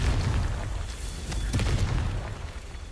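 A Confringo explosion spell cast in a wizarding video game, heard as a deep rumbling boom with a sharp burst in the middle, loud and sustained across the whole moment.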